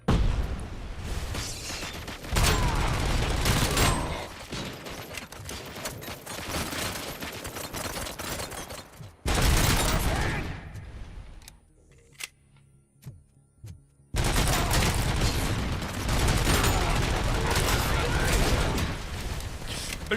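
Pistol gunfire in the RoboCop: Rogue City video game, dense bursts of shots and game combat noise filling most of the stretch, broken by a quieter pause in the middle before the firing resumes loudly.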